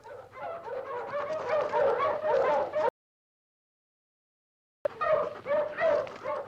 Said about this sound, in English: These men are having the annual dog race.